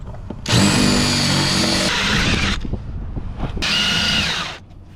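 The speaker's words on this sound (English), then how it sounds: "I'm just gonna drill the heads." A power drill grinds through bolt heads on a 2003 Club Car golf cart, with two loud sustained whining bursts separated by a brief dip, close and without talk.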